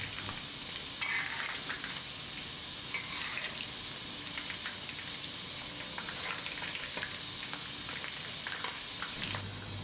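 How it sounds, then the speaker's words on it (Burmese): Pieces of chicken frying in oil for Korean-style spicy fried chicken, a steady close sizzle and bubbling with occasional stirring scrapes and clinks, even and moderately loud throughout. "ကြက်သားလေးတွေကိုကြော်တဲ့အခါမှာလည်းစိတ်ရှိလေးနဲ့ကြော်ပေးသွားပါမယ်ရှင်"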